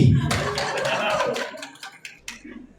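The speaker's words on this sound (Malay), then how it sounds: "Satu tepukan untuk Gen Z." An audience claps at a company event in Penang, a short burst of many hands that fades into a few scattered claps, with a voice talking over the start.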